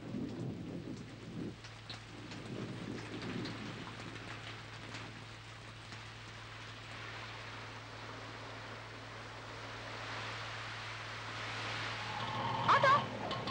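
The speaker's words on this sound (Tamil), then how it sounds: "என்ன கண்ணு இந்த மழையிலையா?" Heavy rain falls in a steady, moderate wash with faint low rumbles, continuous throughout, rising slightly toward the end.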